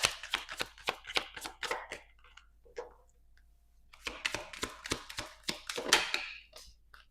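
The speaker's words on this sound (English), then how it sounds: "I'm gonna get all the cards out." Tarot cards are drawn from a deck and laid down in quick bursts of crisp flicking and slapping, two busy runs separated by a quieter pause, close and soft.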